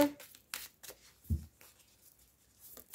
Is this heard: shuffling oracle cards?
yes